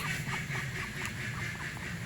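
Muscovy ducks quacking at a home, repeated short nasal calls in an uneven rhythm over low background rustle, moderately close and fairly faint.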